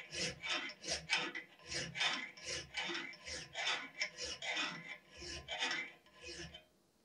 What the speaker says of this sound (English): Using a 10mm round file, I file in the plunge lines up until the marked area.